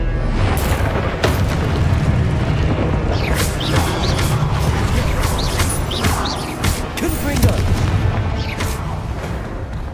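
Spell explosions from Hogwarts Legacy crash in a dense, loud barrage of booming blasts and crackling bursts that run continuously, with no pause between impacts.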